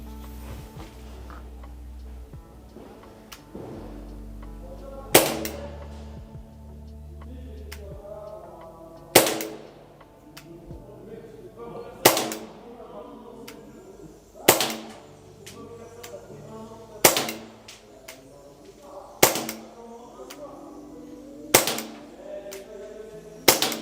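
An Umarex Glock airgun fires a series of 8 pellets at a fresh target, each shot a sharp, close crack spaced a few seconds apart over a quiet background.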